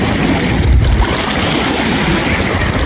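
Sea waves wash and churn continuously against a rocky shore in Negros, close and loud, with steady wind noise across the microphone and no voices.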